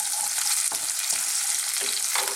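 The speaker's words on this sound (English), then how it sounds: "we want them to be browning, these onions, and slightly burning" Onions fry with a steady, dense sizzle in a hot wok, browning and slightly burning, broken by a few clattering stirs of a utensil.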